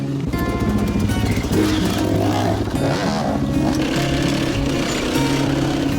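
A Yamaha TTR dirt bike engine runs during an adventure ride in Cambodia, a steady buzzing single-cylinder drone held close and loud across the whole stretch, with small shifts in pitch as throttle changes.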